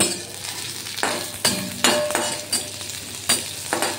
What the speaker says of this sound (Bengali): ভালো করে ভাজা হয়ে যাওয়ার পরে এর মধ্যে ভাজা নারকেলের কুচিগুলো আমি দিয়ে দিলাম